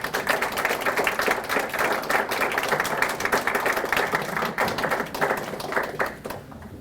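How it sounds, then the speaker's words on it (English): A seated audience at a college scholarly event claps in a sustained round of applause, dense and steady throughout before thinning out at the very end. "stand for a round of applause for putting together this terrific event"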